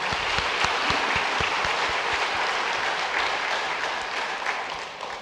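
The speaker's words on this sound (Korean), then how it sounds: "우리 큰 박수로 축하하겠습니다" A church congregation applauds during a Sunday worship service, a moderately quiet, even rush of many hands, with a few distinct low claps standing out early before it slowly fades.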